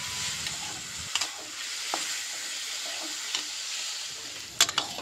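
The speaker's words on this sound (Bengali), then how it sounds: "আর এদিকে পেঁয়াজ দিয়ে আলু ভাজাটাও করে নিচ্ছি।" Potatoes and onions fry in a pan on a cooking stove, a steady close sizzle with occasional scrapes and clinks from stirring.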